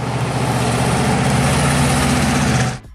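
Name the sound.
1970 Pontiac Trans Am 400 Ram Air V8 engine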